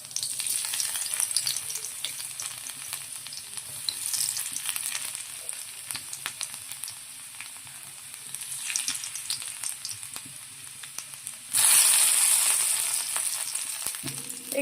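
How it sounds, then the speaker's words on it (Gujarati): Four or five chopped garlic cloves fry in well-heated oil with a steady, close crackling sizzle and a few stirring clicks. The sizzle swells into a louder, brighter hiss toward the end. "તેલ સરખું ગરમ થઈ જાય એટલે એમાં આપણી જે સમારેલી લસણની કળીઓ છે 4 થી 5 એ નાખી દેવાની"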